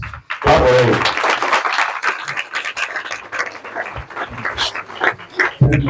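Crowd applause and cheering at an outdoor anti-drug abuse campaign rally in Bomadi, Delta State, greeting an NDLEA assistant commandant. Dense, ragged clapping with shouts and voices runs throughout, briefly dipping near the start and swelling again at the end.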